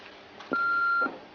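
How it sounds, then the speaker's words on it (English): A phone signals a new message with a single steady electronic beep lasting about half a second, clean and fairly loud against quiet room background, preceded by a faint soft tone. "There's a message on your aunt's phone."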